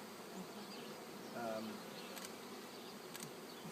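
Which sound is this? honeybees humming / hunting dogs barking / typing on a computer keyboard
honeybees humming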